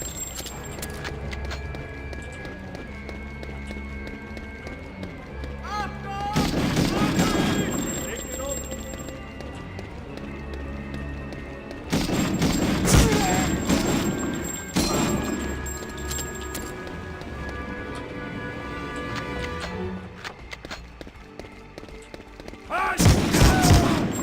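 Gunfire from shooting enemies in a video game comes in several loud bursts of shots and impacts separated by quieter stretches, with someone talking throughout and game voices now and then.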